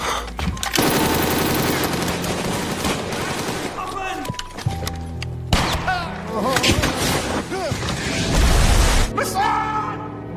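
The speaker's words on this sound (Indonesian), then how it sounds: "terjadilah baku tembak antara mereka dan tentara Jerman" Heavy gunfire in a World War II battle scene from the 2006 film Days of Glory, loud and continuous with dense bursts, booms and shouting voices mixed through a full war-film soundtrack.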